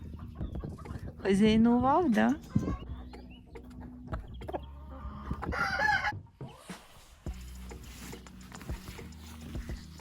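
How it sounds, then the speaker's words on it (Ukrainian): A rooster crows loudly nearby, followed by chickens clucking, with a person speaking briefly between the calls. "Півник."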